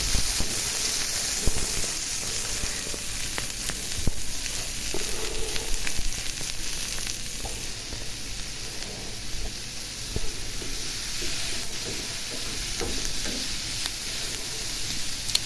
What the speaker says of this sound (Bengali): আস্তে ধীরে ভাবে ভেজে নেব আমি।